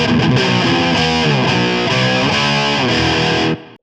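Heavily distorted electric guitar chords in a grimy black metal tone like early-1970s distortion, thick and grimy, ringing continuously for several seconds before cutting off abruptly.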